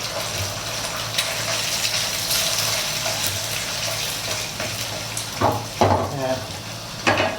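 Two eggs frying in a pan with stir-fried Wai Wai instant noodles, giving a steady loud sizzle with scraping stirs and a few sharp spatula clatters near the end.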